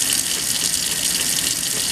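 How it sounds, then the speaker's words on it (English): Water runs steadily into a sink while a circuit board is scrubbed by hand with lightly soapy water in small circular motions, a continuous close hiss and splash without pauses or talk. "So I just go over it with this lightly soapy water in small circular patterns"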